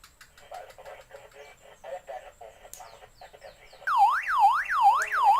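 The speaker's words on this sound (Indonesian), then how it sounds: "Berupa alarm, tapi alarm tidak ditransmitkan." A VHF handheld radio sounds its alarm: first a run of rapid chirping beeps, then a loud, close, rising-and-falling siren-like wail that repeats steadily.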